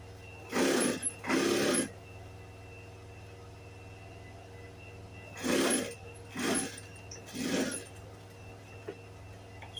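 A sewing machine stitching a shirt's facing, button stand and yoke together, running in short separate bursts of whirring, two close together, then three more after a pause, over a low steady hum.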